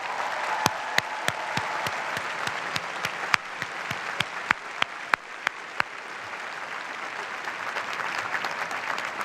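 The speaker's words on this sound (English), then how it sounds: "Please join me in applauding our amazing Penn faculty." Sustained applause from a large crowd at a University of Pennsylvania commencement ceremony, steady and dense throughout, with a few sharper individual claps standing out early on.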